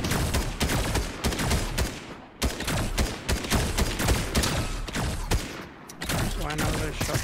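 Rapid bursts of gunfire in the video game Fortnite, loud and dense volleys with brief pauses between them, while players talk over the shooting.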